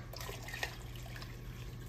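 Strained giblet broth poured from a container into a pot, a soft continuous liquid trickle and splash close by, faint and steady for a couple of seconds with no talking.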